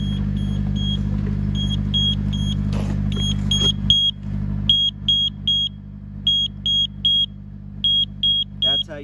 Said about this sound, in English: That's how you test your carbon monoxide detector.